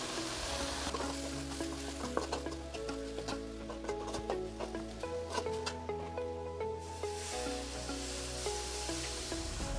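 Continuous sizzling of chili and kuzhambu powder sautéing in hot oil for a fish kuzhambu, with light scraping and stirring clicks on the pan, steady and close with no talk.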